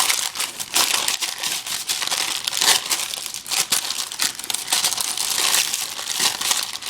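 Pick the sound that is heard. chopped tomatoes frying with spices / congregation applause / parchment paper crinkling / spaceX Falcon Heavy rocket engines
parchment paper crinkling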